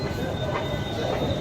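A train pulls into a busy railway station near Mathura and Vrindavan, a steady loud rumble of wheels and carriages. A faint metallic squeal runs over the rolling noise, with no talk.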